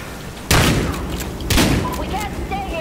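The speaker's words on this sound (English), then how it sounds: "I can handle a shotgun." Two heavy shotgun blasts in Battlefield Hardline, about a second apart, each a loud broadband boom trailing into rain-like noise.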